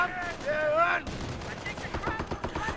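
A Greyhound armored car fires on enemy Grenadiers in the World War II strategy game Company of Heroes, a short burst of gunfire amid battlefield noise, fairly faint and mixed with other game sounds.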